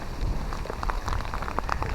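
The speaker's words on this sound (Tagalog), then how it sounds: "Grabe, ang lakas ng ulan." Heavy rain pours onto a mountain trail in Taiwan, a dense steady patter of drops hitting surfaces close by, loud and continuous with no talking.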